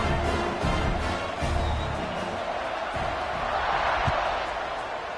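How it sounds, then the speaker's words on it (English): A stadium crowd in a college football video game keeps up a steady, busy roar with scattered thumps and whoops, while a play-by-play commentator talks over it. "this crowd is buzzing after that last score"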